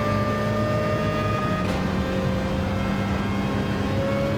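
A race car engine in Gran Turismo 7 holds a steady, loud droning whine as the throttle comes back on, its pitch shifting slightly partway through, with no talk over it.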